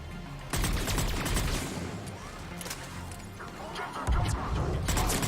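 Turret gunfire in Mass Effect 3, loud bursts of rapid shots with crashing impacts that start abruptly, ease off, then surge again, mixed with game noise and faint voices.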